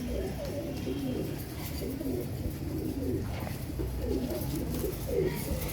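Moulting pigeons in a loft give soft, repeated coos in low rolling phrases, several birds overlapping at moderate distance against a steady background hum.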